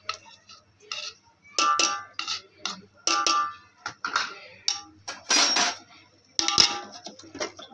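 Spoon stirring tomato and onion paste in a metal cooking pot for chicken biryani: repeated rhythmic scraping and clinking strokes against the pot, close and fairly loud, with no talk.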